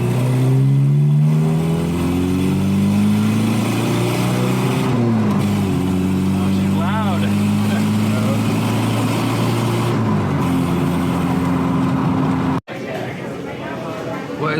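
Volvo Amazon classic car engine revving up through the gears, steady loud accelerating drone with pitch climbing and dropping at shifts, heard from inside the cabin, with brief voices and an abrupt cut near the end.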